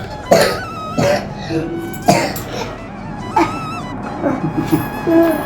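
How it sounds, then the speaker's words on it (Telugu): A child with a fever coughs repeatedly, several separate bursts spaced a second or so apart, close and fairly loud, with faint background noise in between. "దగ్గు కూడా"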